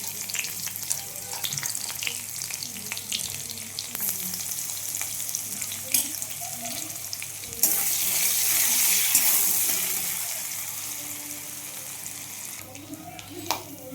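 Cumin, bay leaf, dried chilli and chopped garlic sizzle and fry in hot mustard oil for a Bengali potato and pea curry, a steady crackle with stirring clinks and a louder burst of spitting partway through, no talk.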